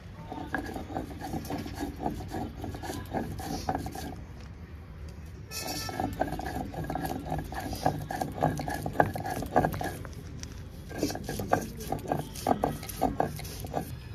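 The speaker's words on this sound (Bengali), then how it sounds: "আমি এখানে মশলাটা পিষে দিচ্ছি" Whole cumin, dried and green chilies, ginger and garlic are ground into a spice paste in a home kitchen, producing a continuous rough, rhythmic grinding and scraping with a brief pause midway.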